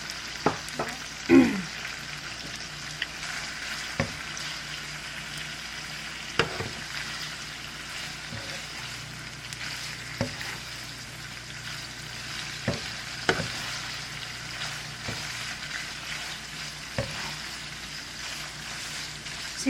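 Beef steak sizzles steadily in a pan after Worcestershire sauce is added, a soft continuous frying hiss with a few sharper pops and clicks of stirring, moderately quiet and without talk.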